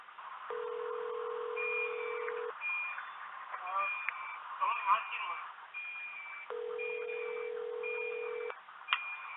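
On a phone call, the ringback tone sounds as two long, steady rings about six seconds apart, with silence between them. Faint voices and scattered beeps sit in the background.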